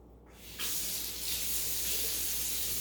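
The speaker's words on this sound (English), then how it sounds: "Rinse the graduated cylinder so it doesn't have anything in it from before." Tap water runs steadily into a graduated cylinder being rinsed, a continuous close hiss of spray that starts abruptly and holds for a few seconds.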